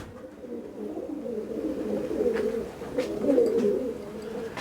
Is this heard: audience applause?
no